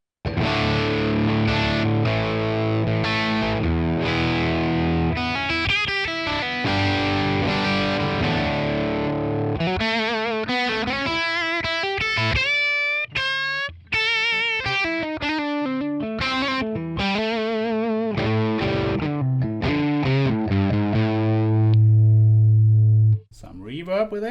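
A Les Paul electric guitar plays a crunchy, semi-driven tone through a Tonex ONE amp capture from the Amp Kit II set, without reverb. Strummed chords and single-note phrases continue throughout, ending on a sustained low note.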